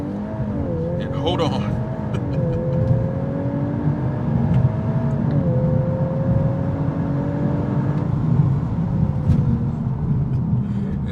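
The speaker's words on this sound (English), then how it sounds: "all you do is put your foot on the brake, gas on the throttle, launch control program active, release the brake" A 2024 Volkswagen Golf R accelerating hard from a launch-control start, its engine note rising steadily through the gears as a loud, continuous drone under a man's speech.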